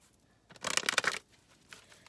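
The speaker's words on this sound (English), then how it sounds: "2 shuffles, Spirit." An oracle card deck being shuffled by hand: a brisk riffling burst of cards snapping together close up, followed by a softer brief shuffle, with no talking.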